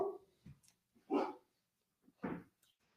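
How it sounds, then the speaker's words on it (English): Dogs barking indoors during a live talk stream: two short, sharp barks about a second apart, moderately loud, with a few softer yips and whimpers around them and no talking. "My dogs love interrupting our feed, so don't feel bad about that."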